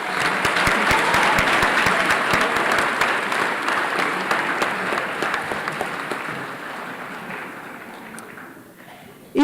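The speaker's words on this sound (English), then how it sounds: "Please give these students a round of applause." A high school academic excellence awards audience applauds students, loud dense clapping from many hands that starts strong and gradually thins and fades over about nine seconds.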